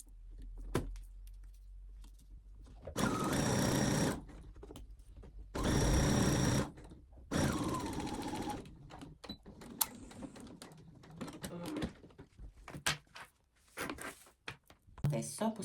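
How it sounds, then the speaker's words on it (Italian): A sewing machine stitches a fabric seam for a 3D Christmas fabric house, running in three distinct bursts of a few seconds each with pauses between, followed by quieter handling noises of the cloth. "blocco il punto e faccio questa cucitura e mi fermo qui dove ho messo il segno"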